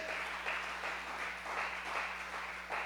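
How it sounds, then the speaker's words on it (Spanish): Steady applause from a crowd, a continuous wash of clapping with gentle swells, no voices on top. "Dale un aplauso a nuestro Rey."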